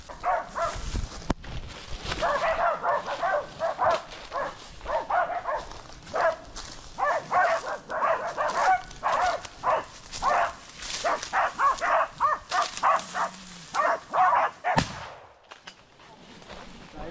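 Hunting dogs barking fiercely at a cornered wild boar in Brazilian wild-boar control, a dense, loud pack of rapid overlapping barks and yelps in repeated bursts with brief pauses, nearby and outdoors.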